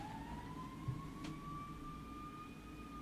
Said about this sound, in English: Sirens going off right outside my window.